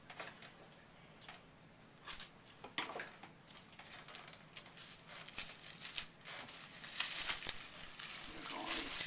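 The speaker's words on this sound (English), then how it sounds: "Then we're going to cut 2 pieces of tape." Pieces of tape are pulled and cut while making an Avon Valentine's basket, giving quiet crinkling, tearing and ticking sounds in scattered bursts that grow busier toward the end.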